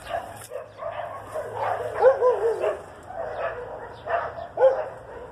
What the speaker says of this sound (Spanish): Hay pelea de perros allá.